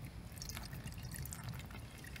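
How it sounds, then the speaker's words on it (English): Distilled water trickling through a funnel into a car battery cell, a soft continuous pour with light dripping, fairly quiet. "Inside here, you'll fill with water, distilled water."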